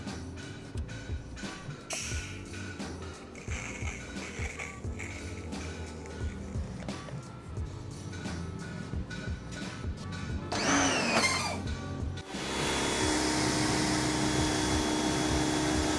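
A Lakoni Basic 50 CL small electric pressure washer: a stretch of clattering handling noise and a brief rising whine, then the motor settles into a steady, loud, even drone.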